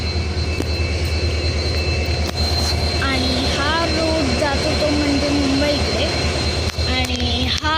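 A train locomotive's engine drones loudly and steadily near Sawantwadi in the Konkan, a constant heavy rumble under people talking nearby.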